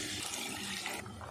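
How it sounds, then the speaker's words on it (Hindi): Three cups of water pour into a pot for aloo lobia pulao, a brief, steady, close splashing rush. "3 कप पानी डाल देंगे।"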